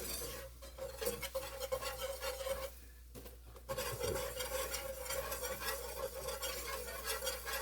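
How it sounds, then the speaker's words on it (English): A whisk stirs all-purpose flour into a roux for macaroni and cheese, a continuous scraping, sizzling swish against the pot, briefly pausing midway before resuming at steady close range. "We're going to go ahead and whisk in all-purpose flour"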